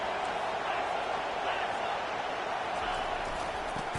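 At a Texas versus UNC college football game, the stadium crowd gives off a steady, unbroken roar that holds at the same level throughout.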